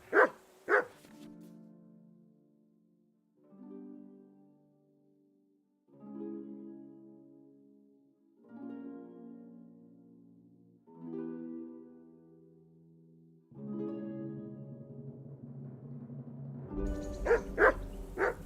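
A dog in the medieval video game Kingdom Come: Deliverance II barks and yips repeatedly in spaced bursts, each a short run of loud barks with brief silent gaps between them, ending in a busier flurry of barking.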